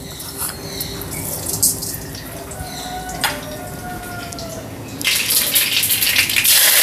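Mustard seeds hit hot oil in a pan while cooking uggani, a Rayalaseema breakfast; after a quiet start, a dense, bright crackling sizzle bursts up and keeps spitting steadily.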